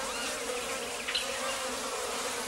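Bees buzz steadily around a yellow palm inflorescence, a dense, continuous drone from several insects moving close by, with no voices.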